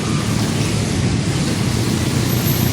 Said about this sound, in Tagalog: lakas pa ng ulan